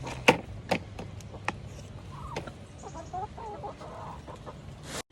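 Backyard chickens, including a Brahma hen, forage on scattered feed on the ground, giving soft, intermittent clucks and murmurs amid sharp pecking taps and scratching, fairly close and quiet.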